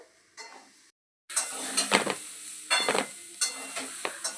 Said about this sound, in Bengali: স্ম্যাশার দিয়ে ভালো করে আলুটাকে মেখে নেবো গরম থাকা অবস্থাতেই এটা মাখতে হবে